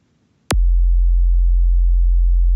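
Synthesized kick drum for a 140 bass house track: a single sharp click whose pitch drops quickly, then settles into a deep, steady sine-like low tone that holds loudly to the end, with nothing else playing.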